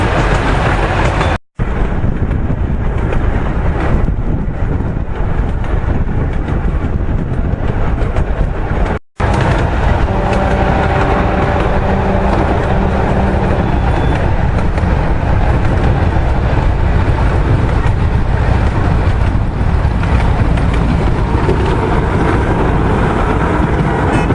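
A loud, continuous rumble of a train running along the tracks, steady throughout, with brief cuts near the start.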